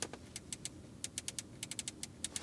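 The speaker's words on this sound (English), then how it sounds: "Click, click, click from the Audi Sound Laboratory." Air-conditioning control buttons in a facelifted 2022 Audi Q5 PHEV Sportback TFSIe are pressed over and over, giving a quick run of crisp, close, quiet clicks in uneven rhythm against a faint cabin hush.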